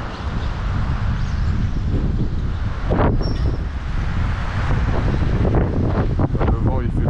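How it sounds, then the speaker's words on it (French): Strong outdoor wind buffeting a microphone during a run of a 1:8 scale SMP pan car model, a loud continuous low roar throughout, with some talk underneath. "Là, le vent il fait fou."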